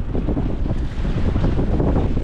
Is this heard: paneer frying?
no